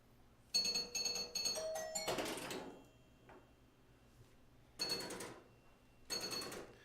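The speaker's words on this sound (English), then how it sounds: "I love the chimes on this game." Chimes of a Hot Tip pinball machine ringing in short metallic bursts, a cluster of rapid strikes followed by a pause and two more separate chime hits, moderately loud.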